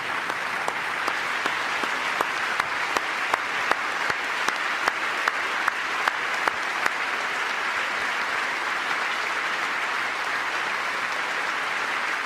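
Audience applause fills the chamber during a State of the Union address: a dense, sustained wash of many hands clapping that holds steady for the full stretch, with no voices over it.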